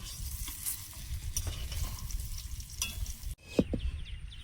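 Pieces of eggplant fry in hot oil in a Bengali home kitchen, a steady close crackling sizzle with scattered pops and some stirring, then a short pause and a couple of sharper scrapes near the end.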